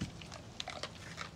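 A bully breed dog crunching and chewing raw meat, with short wet bites and crunches in quick succession, close and moderately loud.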